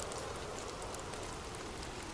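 Steady rain falls without pause, a soft, even hiss of drops spread across the whole clip, fairly quiet and with no voices.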